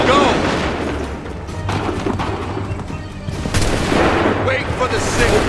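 Musket volley in an Assassin's Creed III battle at Bunker Hill, loud booming gunfire and crashes mixed with shouted voices and battle noise, close and dense.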